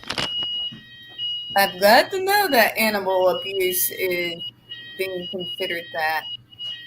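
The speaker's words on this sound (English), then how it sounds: "That's the fire alarm, ladies and gentlemen." A fire alarm gives repeated high-pitched beeps that run intermittently beneath a person talking close by.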